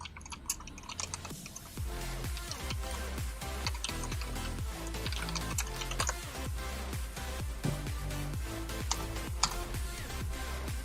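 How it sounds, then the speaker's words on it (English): Rapid irregular keystrokes clatter on a computer keyboard, close and continuous for several seconds with short pauses, with no voices over them. "I was typing to Arzi just now"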